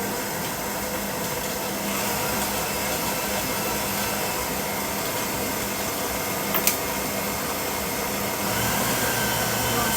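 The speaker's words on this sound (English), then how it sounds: "now you're going to put that on a medium speed and let your mixer do its work" An electric mixer running at medium speed blends cake mixture for a coffee cake, a loud, steady motor whir that holds an even pitch for the whole stretch, with one small knock near the middle.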